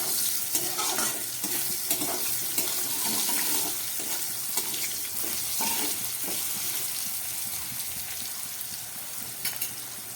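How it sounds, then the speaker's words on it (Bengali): Bitter gourd with turmeric frying in hot oil, a steady close sizzle and crackle with occasional stirring scrapes, no voices. "হলুদ দিয়ে আরও খানিক্ষণ ভেজে নিচ্ছি"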